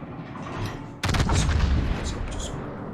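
Naval gunfire in World of Warships: after a second of low rumbling ambience, a loud broadside of heavy ship guns erupts as a sustained booming volley, followed by rolling blast echoes and battle noise.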